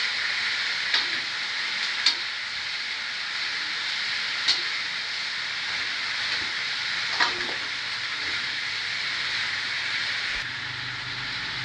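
String beans being stirred with oyster sauce in a hot frying pan: a steady sizzling hiss carries throughout, broken by a few light scrapes and clinks of a utensil against the pan.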